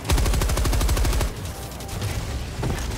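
A Gatling gun in the video game Helldivers 2 fires a rapid, loud burst for about a second, then cuts off, followed by rumbling game noise and another distant burst, with no talking.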